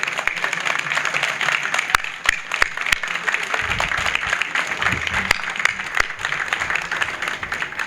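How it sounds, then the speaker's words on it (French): Applause from the audience at an official ceremony in honour of the French forces in Senegal, a round of clapping for Colonel Alban that runs steadily throughout with sharper individual claps standing out. "Le colonel Alban, j'aimerais vraiment qu'on lui fasse une salve d'applaudissements."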